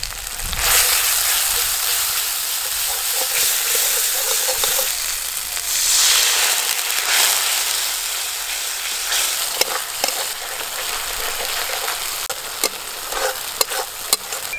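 Spice paste for Bengali fish curry, with ground fennel, dried red chilli paste and turmeric, sizzles steadily in hot oil in a pan, a loud close hiss broken by occasional stirring clicks, with no talking.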